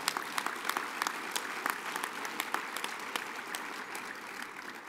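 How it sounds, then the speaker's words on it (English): Applause at a railroad association chairman's awards dinner, a large room of people clapping steadily and densely for several seconds with sharp individual claps standing out. "And that should get some applause."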